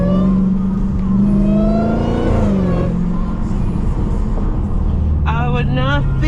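A Dodge Charger SRT Hellcat engine revs hard while driving, a loud, rising and falling roar heard from inside the car, with people talking and music playing over it.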